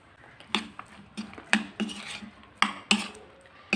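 A spoon knocks against a bowl as a potato filling with turmeric is mixed, giving a string of close, uneven clinks and taps with soft squishy stirring between them.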